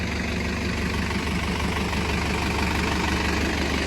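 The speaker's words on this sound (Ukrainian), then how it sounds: "Наш оприскувач." A farm crop sprayer, used for applying grass herbicide to soybean fields, idles with a steady, loud, close-up engine rumble and a constant low throb that holds without change for the whole stretch, with no voices over it.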